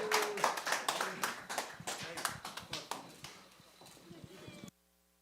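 Small audience at a lecture event claps to welcome a speaker, distinct individual claps rather than a dense roar, fading over several seconds before stopping abruptly.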